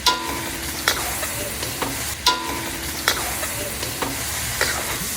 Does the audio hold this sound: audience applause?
no